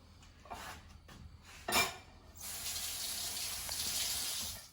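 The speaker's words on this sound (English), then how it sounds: "I'm going to add some water." Water runs from a kitchen tap into a cooking pan after a few light clinks of cookware, a steady, fairly quiet hiss of filling that lasts a couple of seconds.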